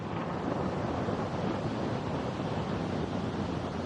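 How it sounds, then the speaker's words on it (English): Steady, dense roar of rocket first and second stage engines during the Progress M-16M cargo launch, a continuous broadband rumble with no breaks, heard from a distance like wind or surf. "First and second stage thrusters operating normally according to reports from the Russian Mission Control Center"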